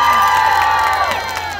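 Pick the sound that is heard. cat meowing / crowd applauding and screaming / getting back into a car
crowd applauding and screaming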